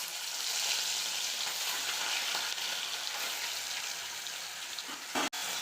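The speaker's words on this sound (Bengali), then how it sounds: "এবার আমি এক এক করে মাছগুলো দিয়ে দেব।" Fish pieces fry in hot oil in a kadai-style wok, giving a steady, close, hissing sizzle throughout, with a brief knock near the end.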